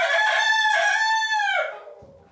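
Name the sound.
rooster crowing and chickens clucking in a coop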